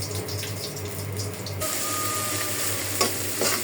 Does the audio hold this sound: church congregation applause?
no